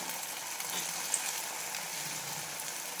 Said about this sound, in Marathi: आपण याला आता तळून घ्यायचं. आपलं तेल पण तापलेलं आहे.